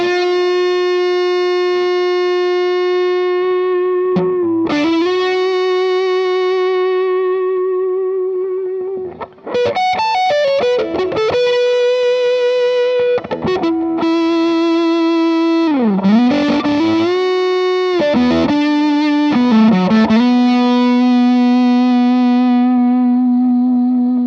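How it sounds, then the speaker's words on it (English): Electric guitar played through a Fuzz Face pedal driving the front end of an amp, with sustained saturated notes, bends and quick phrases, loud and alone with no talking. "now I'll let you hear the fuzz face boosting the front end of the amp"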